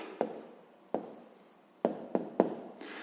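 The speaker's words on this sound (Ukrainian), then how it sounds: "Ну що ж, записуємо відповідь." A pen writes out a fifth-grade math answer by hand on paper: several quiet, close strokes and taps spaced unevenly over a few seconds, with no talk.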